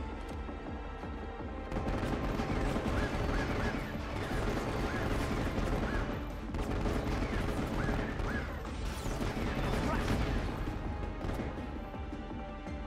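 Prompto's gun fires in dense, rapid bursts in Final Fantasy XV, loud and continuous over a busy layer of game music and crashes.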